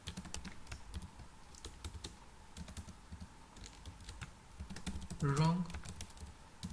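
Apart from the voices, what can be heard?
typing code on a computer keyboard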